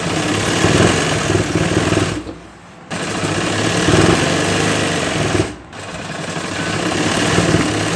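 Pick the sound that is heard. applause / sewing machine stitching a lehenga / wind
sewing machine stitching a lehenga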